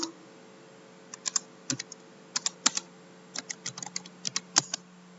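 Typing on a computer keyboard while entering numbering in a Microsoft Word document, with irregular bursts of close, crisp key clicks and short pauses between them.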